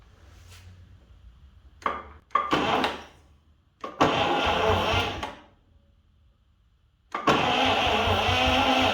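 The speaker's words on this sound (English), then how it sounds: "this is the big test to see if the starter works" A 1952 GMC truck starter cranks the engine in several loud bursts, short grinding turns first and then longer sustained cranking runs close by, separated by quiet gaps.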